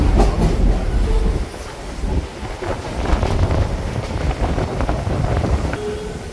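Hyderabad MMTS local train running between stations on the Falaknuma to Lingampally line, a steady loud rumble of carriages with rhythmic clickety-clack of wheels over rail joints and some wind buffeting, heard from inside the coach throughout.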